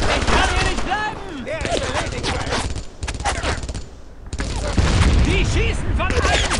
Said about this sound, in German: Die schießen von allen Seiten!